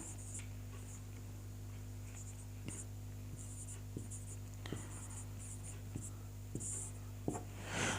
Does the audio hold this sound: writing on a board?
yes